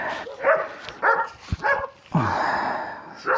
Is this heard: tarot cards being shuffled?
no